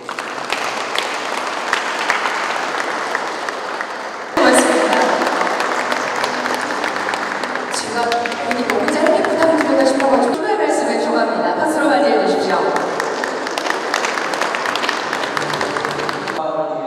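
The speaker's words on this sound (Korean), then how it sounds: "박수 한번 보내주십시오." Audience at the opening ceremony of the Daegu food industry fair applauds for a long stretch, dense clapping that swells after a few seconds and continues steadily, with background music and a voice over the hall.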